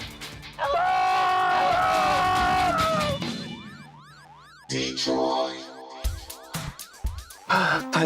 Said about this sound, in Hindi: Nothing is working and siren is annoying.